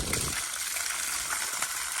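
Water gushes steadily out of a pipe feeding a roof tank, a loud continuous rushing and splashing that holds at a constant level for the whole stretch.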